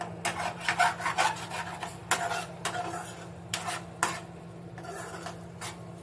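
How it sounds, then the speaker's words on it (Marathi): Onions and tomatoes, already softened, are sautéed and stirred in a pan over raised heat while making hotel-style matar paneer. Repeated scraping and rasping strokes come close and fairly loud over a steady low burner hum, with no talking. "याला थोडा गॅस मोठा करून चांगला परतवून घेऊया"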